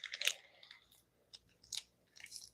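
Someone chews a tortilla close to the microphone, with soft, irregular crunchy bites and mouth sounds in scattered bursts and quiet gaps between them.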